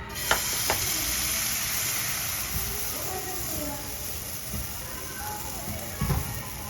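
Hot cake batter sizzles in a pan as a steady, faint frying hiss, with a few soft clinks and knocks of utensils scattered through it and quiet voices in the background.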